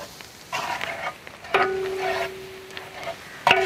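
Onions frying with turmeric and coriander powder for a Kerala tapioca biryani, with a soft steady sizzle and intermittent stirring scrapes, close and moderately loud.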